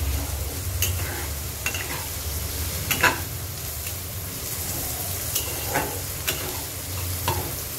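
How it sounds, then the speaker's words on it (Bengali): Carrots stir-fried in a wok give a steady close sizzle and hiss, broken by a handful of scattered clinks and scrapes from the utensil against the pan. "ততক্ষণ আমি এই গাজরগুলো একটু ভেজে নিচ্ছি"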